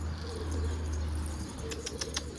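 A runaway pigeon in flight, its wings flapping in a steady fluttering rush over a low outdoor hum, with a few sharper wingbeat bursts near the end.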